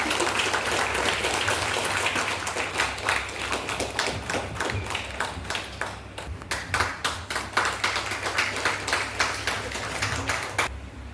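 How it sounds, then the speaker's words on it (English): A crowd of hands claps steadily and loudly at a higher secondary school event, dense rhythmic applause continuing throughout with no talk over it. "Please clap."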